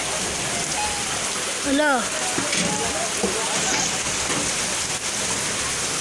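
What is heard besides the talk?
heavy rain during a flood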